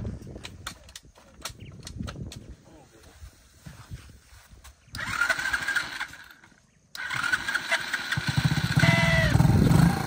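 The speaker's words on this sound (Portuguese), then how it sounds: "Tu liga, agora não acelera não, Luiz." A motorcycle on a muddy trail sputters through start attempts and then catches into a running, revving engine, close and growing louder, with people talking around it.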